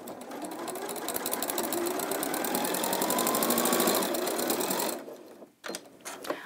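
An Elna sewing machine stitching a bag, a steady close mechanical whir with rapid needle rhythm for about five seconds, then stopping, followed by a few faint handling clicks.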